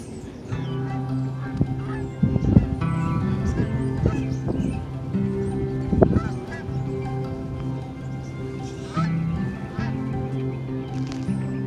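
A large flock of small birds flies overhead, honking like geese. Loud overlapping calls cluster near the start and middle, then thin out, with faint background noise throughout.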